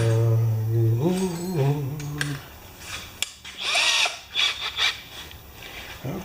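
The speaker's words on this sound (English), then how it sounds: "It goes clockwise, so I can set the drill" A power drill whines during a repair of a Honda HRA214 lawn mower that won't start, spinning up with a rising tone, then running in several short bursts, close and loud.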